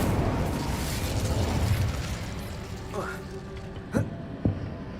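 A fire spell cast in the video game Hogwarts Legacy: a burst of noisy roaring whoosh fades into quieter crackle, followed by a couple of short sharp pops, moderately loud over a background game score.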